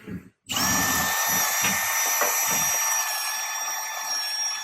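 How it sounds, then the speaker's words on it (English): A power drill reams out a hole in a part for a firewood splitter, giving a loud, steady high whine that runs almost unbroken after a brief gap at the start, with lower grinding rumbles pulsing beneath it. "We're just gonna kind of ream her out a little bit."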